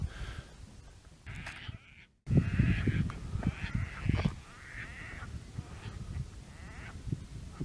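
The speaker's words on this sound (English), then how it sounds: "I presume you can hear the bird life waking up this morning as well" Waterbirds at Lake Machattie in the morning, a mix of honking and quacking calls in short overlapping bursts, some near and some more distant, against a steady outdoor background.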